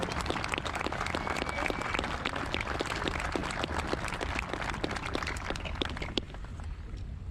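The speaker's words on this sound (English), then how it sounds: "We want to salute you and remain as we applaud" A large crowd applauds at a Vietnam Women's Memorial 25th anniversary ceremony, heavy continuous clapping throughout that thins slightly near the end.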